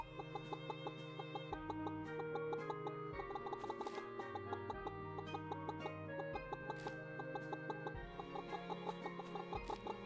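Chickens cluck in the farming video game Pumpkin Days, repeated short clucks over a looping melodic game soundtrack with steady ticking, moderately loud and without speech.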